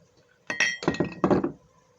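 A metal spoon clinks against a pot while stirring pork and rice, three quick bursts of clattering taps close by, then quiet.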